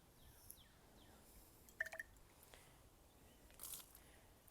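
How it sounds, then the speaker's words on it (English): Water tipped out of a garden rain gauge: faint, brief splashing and a few drips near the middle and end, quiet and close, with no talk. "So I'll just pour that out."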